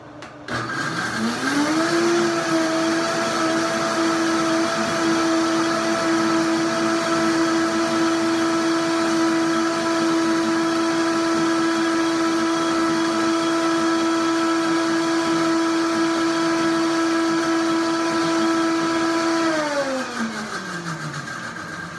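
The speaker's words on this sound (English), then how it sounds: "This is a beautiful high-speed Vitamix blender." A Vitamix high-speed blender whirs up to full speed, holds a loud steady motor whine for nearly twenty seconds, then winds down, with no talking over it.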